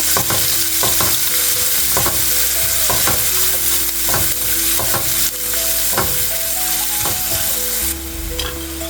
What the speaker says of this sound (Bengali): অ্যাড করে দিব সামান্য পরিমাণে গার্লিক, গ্রিন চিলি। জাস্ট হালকা করে একটু ভেজে নেব।